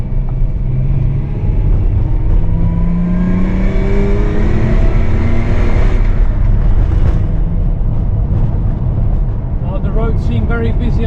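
A Toyota JZX100 car engine drones steadily while driving, with rising revs and gear changes heard up close inside the cabin, and a voice talks at times.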